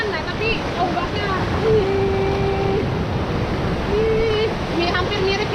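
Sea waves surge and break against coral rocks along the shore of a small island off Bali, giving a steady, loud broadband wash with swelling surges, while a voice speaks intermittently over the water.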